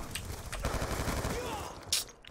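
Fast gunfire rattles through a Black Ops 2 multiplayer match, a quick burst of shots up close, with a short sharp crack near the end and no talking.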